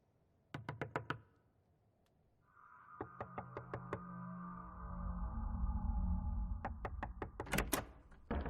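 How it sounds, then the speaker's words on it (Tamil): Knocking on a wooden door comes in sharp, close bursts: a quick run of four or five raps, then a steady series of knocks over a low rumbling drone, and a final flurry of loud raps, all in a tense horror film scene. "யார கதவு தட்டுறாங்க?"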